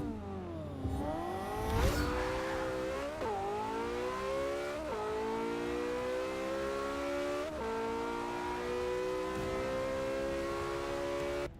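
Race car engine from Forza 6, a Porsche 918 or Toyota Celica, revs hard through several upshifts, each gear climbing as a loud, steady whine close up with no talk over it.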